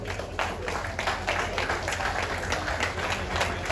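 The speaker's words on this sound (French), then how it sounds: "Sous vos applaudissements, s'il vous plaît." An audience applauds at a school centenary ceremony, with many hands clapping in a steady, dense wash that carries on without a break.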